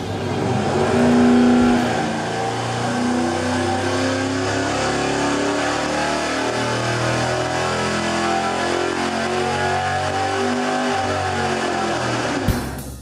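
An engine on a dyno with an electric fuel pump fitted makes a sustained, loud pull, with strong harmonic tones holding steady at high revs before a sharp cutoff near the end, and no voices.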